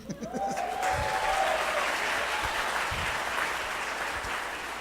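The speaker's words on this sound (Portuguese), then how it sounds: "A gente tem que bater palmas aqui para o Josimar Bianchi." Audience applause for a speaker at a talk, rising after a brief sung or spoken phrase at the start into steady sustained clapping with a few louder thumps, easing near the end.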